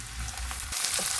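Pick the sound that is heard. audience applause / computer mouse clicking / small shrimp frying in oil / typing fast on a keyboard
small shrimp frying in oil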